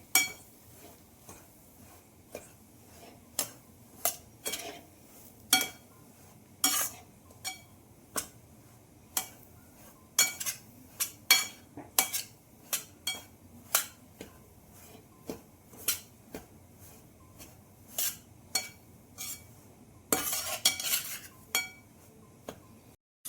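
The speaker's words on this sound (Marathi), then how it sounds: "आता आपण यामध्ये रवा टाकून पाच ते दहा मिनिट त्याला मंद आचेवर छान भाजून घेऊ" Semolina dry-roasts slowly in a pan over a low flame for sheera, stirred continuously, producing a long run of crisp, evenly spaced spoon taps and clinks against the metal over a quiet background.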